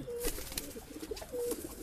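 High-flying pigeons in a breeding loft give soft, low coos, with two drawn-out calls near the start and end over faint background rustle and no talking.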